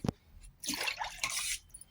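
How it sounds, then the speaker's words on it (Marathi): Water poured from a glass into strained mango pulp for homemade mango Frooti, a short close splashing pour after a brief clink, fairly quiet with no talk. "2 ग्लास किंवा 3 ग्लास पाणी टाकणार आहे."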